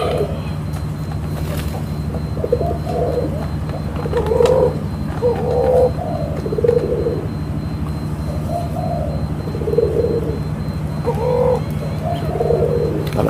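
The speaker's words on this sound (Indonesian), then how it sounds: "Nah ini ada yang bunyi nih, ternyata yang bunyi ini cuhu tangerin" A tangerine dove, probably a male, coos in a repeated soft pattern of short, rounded phrases set a few seconds apart, fairly close, over a steady low background hum.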